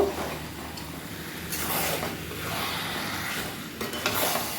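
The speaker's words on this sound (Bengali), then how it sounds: "এবার আমি চিকেনটাকে এর মধ্যে দিয়ে দেবো। দিয়ে ভালো করে কষিয়ে নেব।" Chicken is stirred and fried in a pan, a continuous close sizzle with soft scraping strokes of a spoon throughout, a few louder bursts near the end, no talking.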